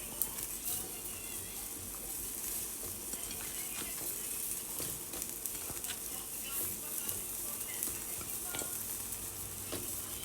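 Faint, steady bubbling and sizzling from a pot of Ilocano dinengdeng soup cooking on a stove, with occasional light clinks, continuous throughout.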